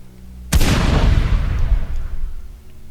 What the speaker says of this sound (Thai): สิ้นเสียงปืน